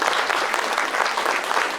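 An audience applauding at an evening thank-you ceremony in a Lithuanian village, dense, even clapping from many hands filling the room, continuous and fairly loud.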